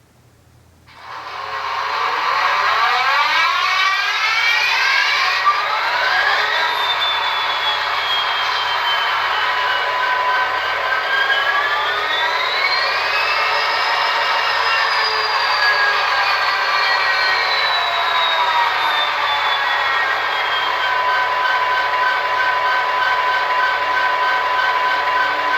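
An Athearn Genesis SD60M model locomotive's sound decoder plays its startup sequence, with the exhaust volume turned all the way up. The diesel engine cranks and rises, revs through shifting tones, then settles into a loud, steady idle rumble.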